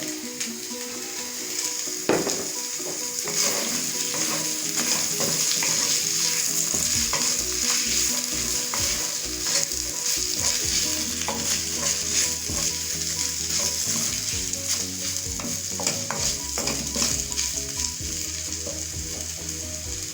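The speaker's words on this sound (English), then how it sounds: "So while that is frying," Spring onion and pepper sizzle loudly in a hot pan while a utensil scrapes and taps against it in an uneven rhythm, with a low rumble underneath.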